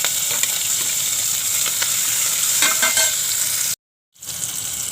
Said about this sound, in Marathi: कांदा टोमॅटो चांगला भाजत आला आहे.